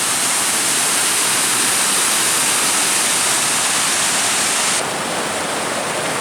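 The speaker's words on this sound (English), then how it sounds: "Beautiful waterfall when you make it down here to Naval Run." A rain-swollen waterfall at Naval Run roars steadily and loudly close by, a dense, unbroken rush of falling water.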